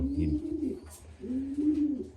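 Racing pigeons coo in a loft, two close, low rolling calls separated by a brief pause, with no talking.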